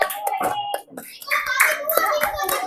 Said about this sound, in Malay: Tepuk tangan dulu untuk diri sendiri dulu.